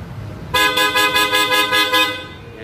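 A Hella Supertone horn fitted to a Yamaha Aerox or NMAX scooter sounds one loud, steady, brassy honk of about one and a half seconds. It plays alone and close up.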